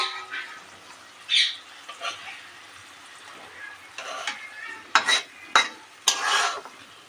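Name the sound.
flipping an egg and potato dish frying in a pan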